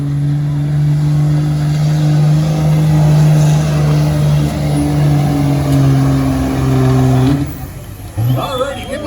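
A monster truck engine roars loud and steady during a truck pull, holding a strong droning note before it drops off as it shifts gears, with crowd noise and voices in the background.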